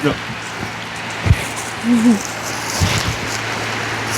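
Rain falls steadily during a heavy storm at a house, a constant broad hiss with a few faint low voice sounds and knocks over it.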